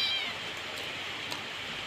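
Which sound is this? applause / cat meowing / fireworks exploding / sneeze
cat meowing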